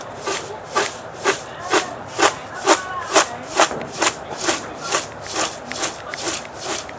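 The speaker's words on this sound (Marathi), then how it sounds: "आता याला आपण असं मिक्स करायचं" Thin poha chivda for Diwali being tossed and mixed by hand, giving a steady rhythm of dry, crisp rustling strokes roughly twice a second, close and fairly loud with no talk.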